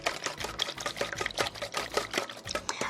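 Egg mixture for Korean steamed eggs whisked fast by hand in a bowl, a steady rapid run of light clicking, tapping strokes close up, with no talk.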